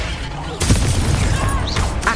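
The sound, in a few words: Incendio fire spell cast in Hogwarts video game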